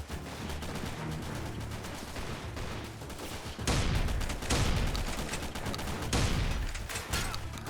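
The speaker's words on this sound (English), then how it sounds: "Let me just use my shotgun" Shotgun blasts in S5 Freeman Guerrilla Warfare, a loud, dense stretch of game gunfire with heavier booming bursts in the second half, with no talking.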